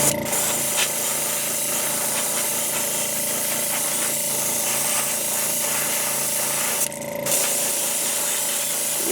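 Createx opaque white base coat paint sprayed from an airbrush as a base layer on a fish gill, a steady close hiss running the whole time with a brief louder burst near the end.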